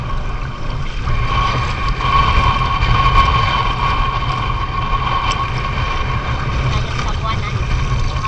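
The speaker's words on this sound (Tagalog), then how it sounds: "Alakas ng hangin." Steady, loud wind buffeting the microphone with a constant low rumble, continuous throughout with no clear pauses.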